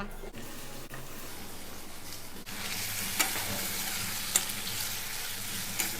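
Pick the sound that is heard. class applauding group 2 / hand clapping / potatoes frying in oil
potatoes frying in oil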